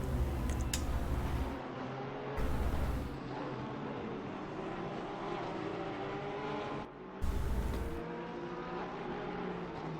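Porsche GT3 race cars roar around the Indianapolis circuit in a sim racing game, with a steady, dense engine drone throughout and louder bursts as cars pass close by, no talking.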